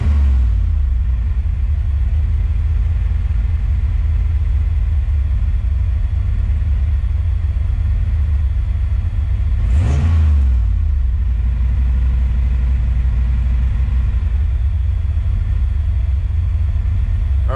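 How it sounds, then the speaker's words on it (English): A fuel-injected (EFI) engine rumbles loudly at a steady idle, then swells in one brief throttle blip midway before settling back to the same drone. "I'm just going to blip the throttle a few times to see how it reacts"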